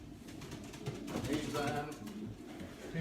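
Racing pigeons coo close by in a breeding loft, their throaty warbling rising and falling in steady, layered phrases while someone talks quietly over them.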